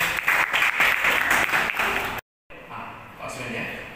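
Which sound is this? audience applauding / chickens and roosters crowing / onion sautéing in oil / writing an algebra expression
audience applauding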